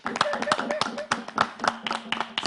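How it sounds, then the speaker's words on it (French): A studio audience at a Mother's Day TV morning show gives light, scattered applause, individual claps standing out at an uneven rhythm while a voice talks over them. "Si vous êtes contents, applaudissez"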